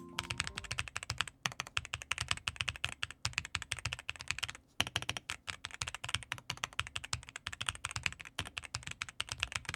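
Rapid typing on a Hellyberry mechanical keyboard with linear switches, quick clacking keystrokes in a dense irregular stream with one brief pause, close and clear with no voices.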